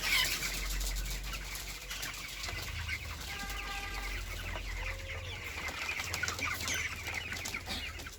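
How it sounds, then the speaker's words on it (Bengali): Broiler chickens on a farm cluck and squawk repeatedly while being caught, their calls overlapping in a constant flock chorus close by. "পাঁচটা মুরগি ধরো"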